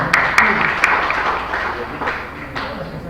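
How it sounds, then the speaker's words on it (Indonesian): Applause from the audience at a campus seminar, a short burst of clapping heard close by that fades out after a few seconds. "Kita beri aplaus buat kita semuanya."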